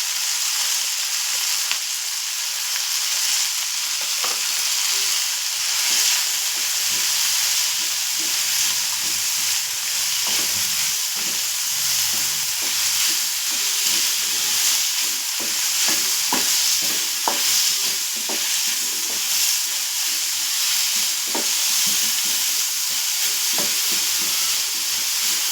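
Grated coconut, added with onions and later garlic, sizzles steadily while being sautéed and stirred in a frying pan, a continuous close frying hiss broken by light scraping clicks of the spoon, with no talk.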